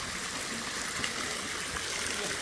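Water pours steadily from stone spouts at Parbati Kunda in Rasuwa, a continuous even rush of splashing flow, close and unbroken, with no talking.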